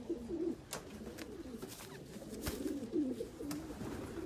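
Racing pigeons coo steadily inside a loft, several low burbling calls overlapping close by, with occasional sharp clicks and wing or perch knocks breaking in.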